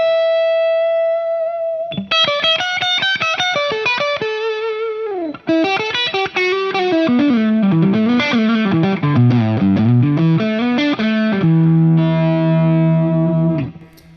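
Electric guitar lead line on a PRS P22 using the middle pickup with the tone knob rolled back, driven and effected, sustained notes, bends and quick runs ringing out loud and close, ending on a held chord.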